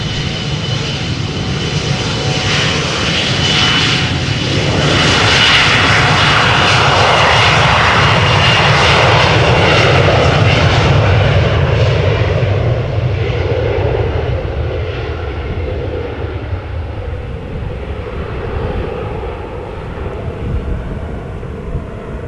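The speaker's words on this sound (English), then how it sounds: "And it is already spooling up. Embraer 175 outbound to Venice in Italia." An Embraer 175 spools up its jet engines for takeoff at Amsterdam Schiphol, outbound to Venice. The loud roar builds and swells to a peak, then gradually fades as it moves away.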